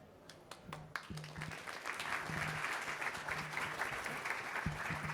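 An audience at a space career fair breaks into a round of applause, a dense wash of clapping that swells and holds steady for several seconds, heard fairly close with no talk over it.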